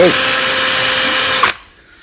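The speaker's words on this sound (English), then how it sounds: "drill it out to move your hole more that way and straighten your drill out and go in" A power drill whines steadily while boring out a snapped bolt in a John Deere riding mower spindle, loud and close, then stops abruptly and winds down near the end.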